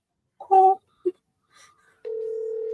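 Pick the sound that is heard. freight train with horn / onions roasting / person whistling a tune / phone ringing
phone ringing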